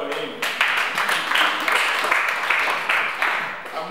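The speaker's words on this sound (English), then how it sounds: "Can we clap for him?" A workshop audience at a presentation in Owerri claps in a short burst, many hands forming a steady clatter that holds at moderate loudness for several seconds before tapering, with faint voices underneath.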